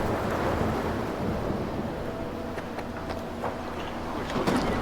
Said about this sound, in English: It's like a storm blowing in, but not an emission, so that's fine.